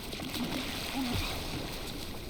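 River water splashes and sloshes in the Baby Steps video game, a steady rushing wash with someone talking briefly over it.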